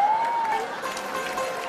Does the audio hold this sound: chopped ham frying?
no